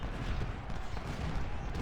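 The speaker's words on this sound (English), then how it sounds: "Every artillery piece in our army fires on Drake." Massed artillery and musket fire from the Civil War strategy game Ultimate General: Civil War, heard as a dense, continuous rumbling barrage of overlapping gunshots at moderate level with no clear gaps.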